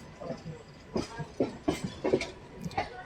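A Kacheguda–Nadikudi DEMU train runs along the tracks in a steady interior rumble, with rhythmic wheel clacks on rail joints repeating at moderate loudness.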